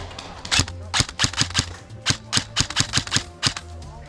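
An EMG MK18 airsoft rifle fires during an airsoft game in a rapid, irregular run of sharp, snappy pops, mostly single shots and short bursts, close and loud, with faint voices in the background.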